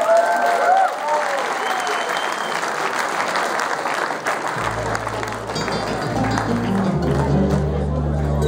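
Loud, dense applause from a live son concert audience in Brussels rolls on steadily, with crowd voices and cheers mixed in, and low bass-like tones entering toward the end.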